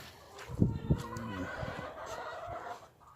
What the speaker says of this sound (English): Chickens in there.